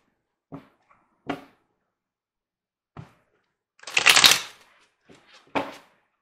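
Tarot cards shuffled by hand to pull a card: a few sparse soft slaps, then a brief louder riffle, and a final flick, close up with quiet gaps between.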